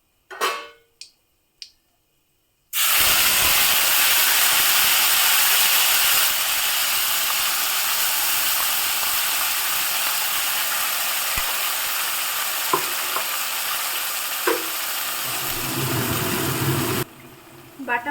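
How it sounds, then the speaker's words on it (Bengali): Ground spice paste drops into a hot pan for a light dish: after a few soft clicks, a sudden loud, close sizzle erupts and hisses steadily, easing slightly as stirring clatters underneath. "এখন আমি দিয়ে দিচ্ছি বেটে রাখা মশলাটা"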